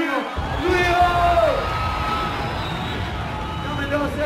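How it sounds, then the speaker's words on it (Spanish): A dense festival crowd at Lollapalooza Argentina roars, whoops and cheers loudly and without a break, with yells rising from the mass of voices. "Quiero un aplauso fuerte para Juan Watch"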